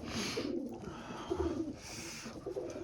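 Soft, low cooing of a pigeon repeating under a steady hiss of background noise in minus 17 degree frost in Boryspil, Ukraine, no talking.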